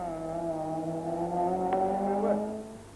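A colourful VW Golf Synchro rally car driving a special stage of the 1993 Sasol Rally, its engine holding a steady, moderately loud harmonic drone that shifts pitch slightly as it moves, with a brief sharp transient midway.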